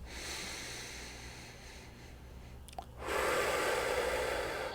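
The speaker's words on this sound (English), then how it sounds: "breathe all the way as deeply as you possibly can into your body" Slow, deep breathing during a guided breathing exercise, a soft steady airy wash of inhale that swells louder near the end, alone with no talking.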